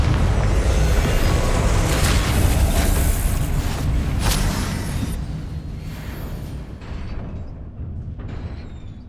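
Confringo blasting spell explosion in Hogwarts Legacy: a loud, dense roaring blast that holds for several seconds, then slowly rumbles and fades away, with no talk over it.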